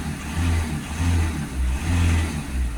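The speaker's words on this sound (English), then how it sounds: "Give it a few revs up and down." Car engine revved repeatedly up and down in steady surges, each rise and fall lasting about half a second, loud and close with no talking.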